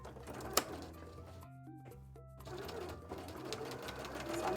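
A sewing machine stitches fabric for costume arm wings in bursts of fast, rhythmic whirring, with a sharp click near the start. A quieter pause falls midway before the stitching resumes, all of it close by, with no one talking.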